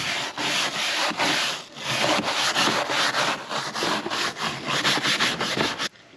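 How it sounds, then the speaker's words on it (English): Steady back-and-forth scrubbing strokes rub grease off the plastic of an old farm truck, a close, rhythmic rasping that goes on without pause, with no voices. "I don't know if it's just scrubbing the plastic off"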